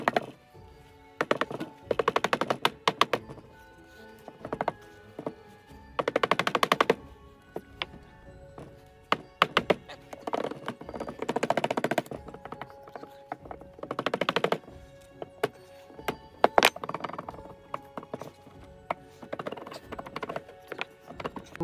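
A mallet taps the engine casing of a 1996 KTM 400 LC4 during teardown to work it loose, giving repeated knocks in short bursts with pauses between, fairly close and moderate in loudness, with no talking.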